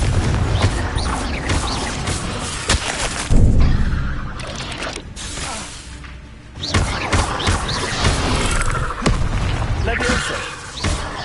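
The Confringo fire blast spell explodes repeatedly in Hogwarts Legacy, loud booming thuds and crashes among other spell effects, while a voice speaks over the action.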